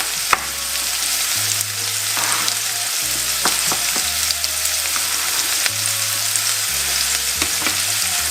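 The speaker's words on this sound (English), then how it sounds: "It's a quick stir fry this evening." Courgettes being stir-fried in a hot pan, a loud steady close-up sizzle broken by occasional spatula taps and scrapes, with a low background hum underneath.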